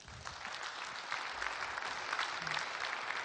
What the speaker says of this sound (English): big applause for players.